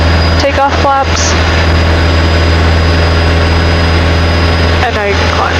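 A single-engine training airplane's engine runs at full power during flight training, a loud steady propeller drone throughout, with brief radio or voice bursts near the start and end.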